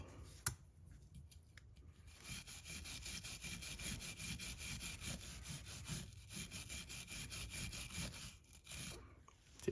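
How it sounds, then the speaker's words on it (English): Kawasaki KE175 motorcycle flywheel scrubbed with Scotch-Brite and a wire brush, a close, quiet, continuous rasping scrub in rhythmic back-and-forth strokes with brief pauses. "I'll just be using some Scotch-Brite and some wire brush"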